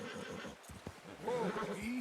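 A horse whinnies in the Red Dead Redemption 2 video game, a rising and falling neigh over soft ambient noise, with faint hoofbeats nearby.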